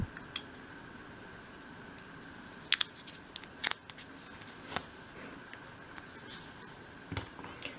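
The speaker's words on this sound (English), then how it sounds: "And then cut round it." Small scissors snip around a tiny paper sign backed with double-sided tape for a 1/12 scale model shop, several crisp, close cuts at irregular intervals over a faint background hum.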